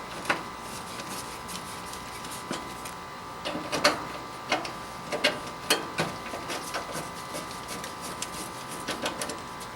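Screws being threaded back into a Napoleon gas grill, a faint series of irregular small clicks and ticks, denser in the second half, over a quiet background hum.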